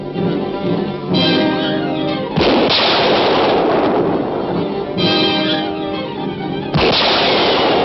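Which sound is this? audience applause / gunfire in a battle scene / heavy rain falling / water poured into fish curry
gunfire in a battle scene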